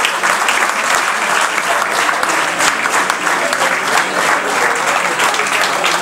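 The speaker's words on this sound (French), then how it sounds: "Allez, Nicolas, come on, let's go. Et Boyan, voilà, on peut les applaudir." Crowd applauding the players after a Vanves basketball match, loud, dense, continuous clapping from many spectators with faint voices underneath.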